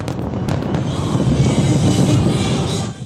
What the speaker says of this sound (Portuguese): Borboletas multicoloridas são liberadas pelos milhares de fogos de artifício,